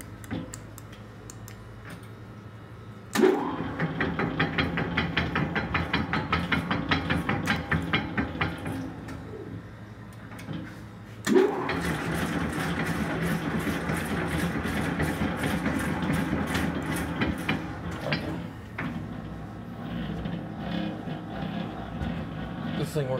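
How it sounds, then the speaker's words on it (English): A single-phase 60 quart Hobart commercial mixer running, giving a rapid, regular ticking and mechanical clatter over a low hum, with two sharp starts and someone talking over it at times. "Single phase 60 quart Hobart mixer."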